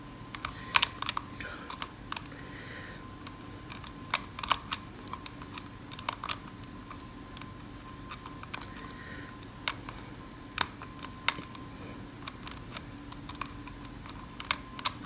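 Close, sparse metallic clicks and ticks from a pick working the levers of an antique ILCO lever lock, irregular and quiet, over a steady low hum with no talking.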